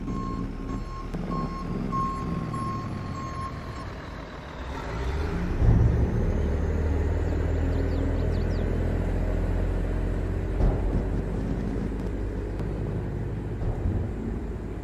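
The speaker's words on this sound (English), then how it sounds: "I got the Peterbilt truck unloaded here." A Peterbilt truck in Farming Simulator 22 backs up to unload gravel, steady reversing beeps over a deep diesel rumble, then an air-brake hiss and a heavier engine drone as the load drops.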